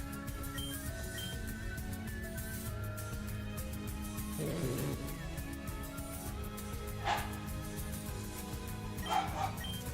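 A pet dog barks a few times in a home during a Pokemon Z Nuzlocke game session. The yips are fairly faint against a constant electronic hum and background music.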